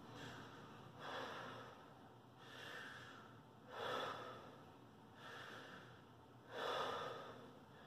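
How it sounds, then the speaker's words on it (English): Deep belly breathing exercise: slow, audible breaths in a quiet room, with four broad swells of air spaced a couple of seconds apart, each rising and fading gently and heard alone without talk. "Your shoulders relax and your chest relax, and you're just going to focus on from the belly breathing."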